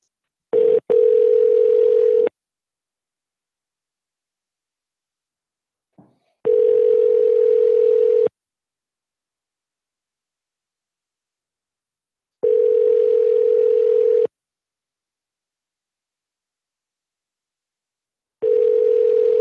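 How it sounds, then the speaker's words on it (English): An outgoing phone call ringing out on the line during a callback, four evenly spaced ring tones about two seconds long separated by silence, with no speech. "Let's give him a call back."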